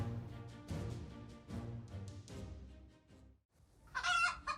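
Chickens squawk and cluck close by in agitated bursts while fending off a cat, followed by a brief pause and a sharp, higher-pitched outburst near the end.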